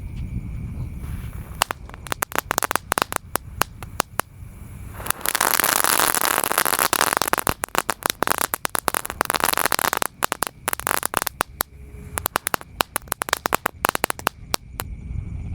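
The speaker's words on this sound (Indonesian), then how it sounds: "Seru sekali guys, menyalakan mercon malam hari ya." Two packs of telur dino firecrackers going off outdoors at night, dense rapid cracks and pops in long crackling bursts with a brief hissing rush, loud and close.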